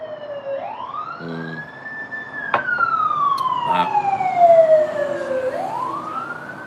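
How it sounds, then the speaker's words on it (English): An EMS truck's siren wails past on a street, its tone sweeping up and down in long, loud glides that grow stronger as it nears, with brief horn-like blasts mixed in. "that EMS trucks comes down there with the sirens blowing"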